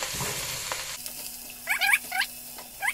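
Cabbage stirred in a cooking pot for a Gabonese and Congolese sauce, heard as a brief soft scraping rustle followed by a few close, sharp squeaky scrapes of the utensil against the pot.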